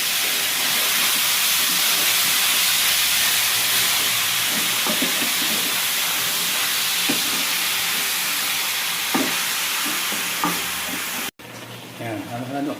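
Igado sizzles loudly and steadily in a hot pan, a dense hiss of frying with scraping stir strokes cutting through now and then, close up.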